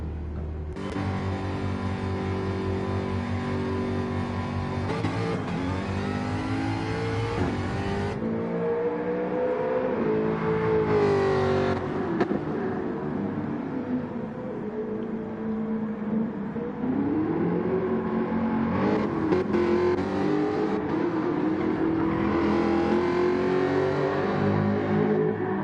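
Race car engines rev and whir through a video game touring car race at Barcelona-Catalunya, the tones sliding up and down steadily for the whole stretch with no talking.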